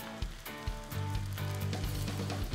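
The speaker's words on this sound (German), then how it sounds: "Jetzt kommt der Essig dazu. Kommt ein bisschen Essig dazu." Cabbage sizzles in a pan as a teaspoon of apple vinegar goes in, a brief burst of crackling and hissing with low hum underneath, close and fairly loud, no speech.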